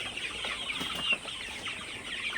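Sonali super hybrid chickens cluck softly in an evening coop, a faint scattered chorus of short calls and light rustling at low level.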